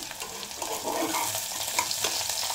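Eggplant frying in a pan, a steady close sizzle with light stirring and scraping, no voices.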